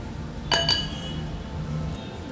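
Sugar is mixed in a bowl for homemade cake batter, with a pair of bright clinks of a utensil striking the bowl followed by softer, quieter stirring.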